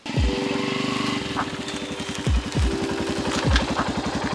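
A motorcycle rolls slowly across village farm fields, its engine chugging steadily at low revs with a few louder revs and clunks as it bumps along, close and continuous throughout.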